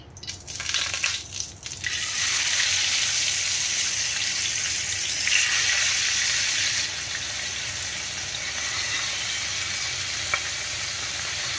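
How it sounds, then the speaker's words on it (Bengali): Mackerel fish frying in a wok, a loud continuous sizzle that swells after a couple of seconds and holds steady, with a few brief stirring scrapes near the start. "আর তন্ময় ম্যাকরেল মাছ এনেছে, এখন ম্যাকরেল মাছ ভাজাও হবে"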